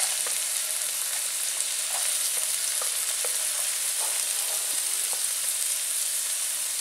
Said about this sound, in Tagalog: O sige, igigisa na po natin. Unahin natin muna ang sibuyas.